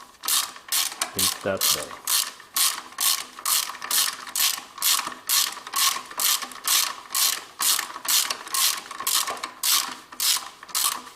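Ratchet wrench loosening an engine mount nut on a Toyota Camry 2.4 VVT-i, a steady run of close, crisp clicks in even bursts, about two per second, alone with no talk.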